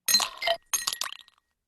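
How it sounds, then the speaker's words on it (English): Ice cubes clinking against each other in a glass, two short bursts of bright, glassy rattling separated by a brief pause, fairly close and clear with nothing else heard. "Ice cubes."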